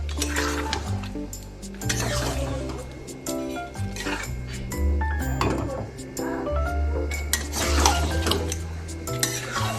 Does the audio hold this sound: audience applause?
no